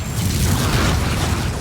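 A Bombarda spell explosion in the Hogwarts Legacy video game: a loud, dense, low booming blast that sustains evenly for under two seconds, with no talking over it.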